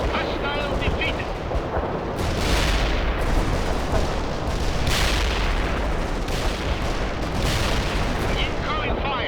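Artillery fire booms in a war video game, several heavy blasts and rumbling explosions rolling over a constant battle din, with game voices talking over the barrage.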